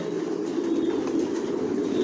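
Racer pigeons of Johnson line in a loft coo in a dense, continuous murmur, close and steady throughout.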